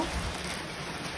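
Steady rain falls during Typhoon Dante, a soft even broadband hiss with a low rumble beneath it, continuous and fairly quiet with no distinct drops or voices.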